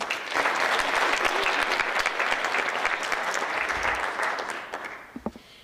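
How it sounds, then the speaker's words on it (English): An audience applauds loudly and steadily for several seconds, the clapping thinning out toward the end. "Let's give another round of applause to all these talented young ladies."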